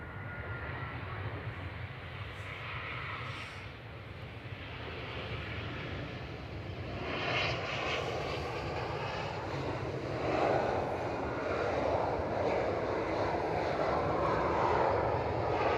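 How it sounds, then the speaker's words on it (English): An EasyJet passenger jet arriving from Amsterdam lands at Manchester Airport, its engine roar a steady distant rush that swells toward the end as it touches down. "EasyJet from Amsterdam, flight 2166, touching down."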